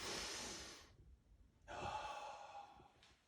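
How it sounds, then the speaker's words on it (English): A deep, slow breath drawn in and let out during a self-bodywork breathing exercise, two broad breathy rushes separated by a short pause, close and fairly soft with no talking. "I want you to take a deep breath and go."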